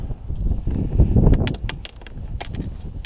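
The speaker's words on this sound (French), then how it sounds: "un peu de vent" Gusting wind buffets the microphone at an alpine summit reached on a ski touring outing, rising into a loud rumbling surge and then easing into softer bursts with faint rustling and clicks.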